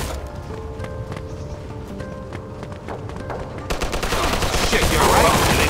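Gunfire in the video game Mafia II Definitive Edition crackles in rapid repeated shots, growing louder and denser toward the end over a steady background of game sound.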